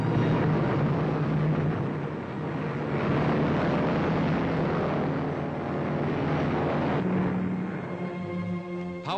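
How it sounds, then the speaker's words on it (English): A Lockheed Constellation airliner, an 80,000-pound transport with four 18-cylinder piston engines, roars steadily and loudly through the whole stretch as its propellers drone on its first public flight. "Lockheed Constellation, world's largest land-based transport plane, prepares to make its first public flight"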